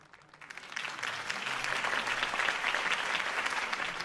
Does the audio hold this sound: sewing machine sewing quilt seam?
no